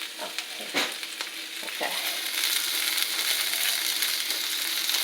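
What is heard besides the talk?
stirring vegetables frying in an oiled pan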